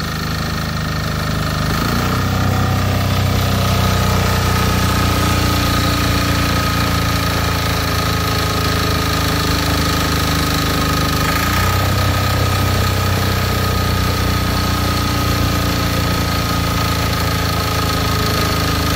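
A MEP 831A military generator engine runs loudly and steadily throughout, its steady drone rising in pitch and surging at about two seconds and again near eleven seconds before settling back.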